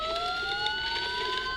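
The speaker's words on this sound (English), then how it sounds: "Sirens. The police." Police sirens wail in Batman: Arkham Asylum, a loud, steady, rising siren tone that fills the whole short stretch with no voices over it.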